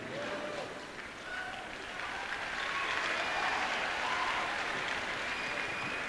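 An audience in a chapel clapping, a steady wash of applause filling the room and swelling slightly, with some voices mixed in.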